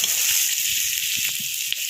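Onions frying in a pan over village-style cooking, a steady bright sizzle filling the space close up, with a few soft knocks and scrapes underneath.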